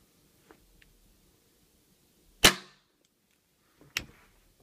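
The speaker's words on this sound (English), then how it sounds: "Pump it back, push it forward, pull the trigger." A Taso Stock Gun Deluxe air gun is pumped and then dry fired, giving a couple of faint mechanical clicks before one sharp, loud snap and a second, quieter crack a moment later.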